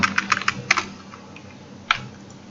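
Fingers tap a computer keyboard while Angular code is entered, a quick burst of crisp close keystrokes followed by a pause and one final isolated click.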